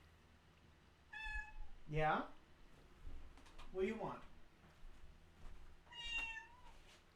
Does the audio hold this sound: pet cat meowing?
yes